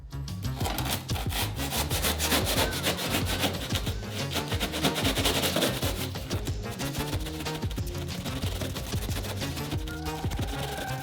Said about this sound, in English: trimming the foam down to match the edge of the shell walls